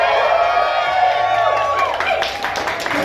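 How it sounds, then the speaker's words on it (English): Crowd cheering, whooping and clapping at a vampire LARP night at Sub Club in Melbourne, a loud burst of applause and shouts from a packed room that stays close and lively. "Can we get a big cheer?"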